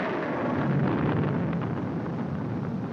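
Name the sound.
thunder in a storm, film sound effect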